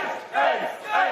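Swedish fans in a poker crowd at the World Series of Poker Main Event final table chant loudly for an ace, two swelling bursts of massed voices filling the room.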